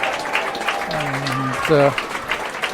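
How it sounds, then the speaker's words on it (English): Crowd at a non-league football match between Biggleswade Town and Ware cheers and claps during a medal presentation, a steady wash of applause with scattered shouts running under a commentator's voice throughout. "JJ Lacey is the one who gets the big cheer."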